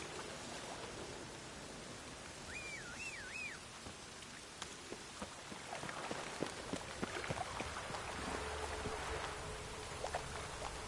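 Steady rain in a video game hissing throughout with scattered drips and taps, a brief warbling tone early on, and sharper patters building toward the end.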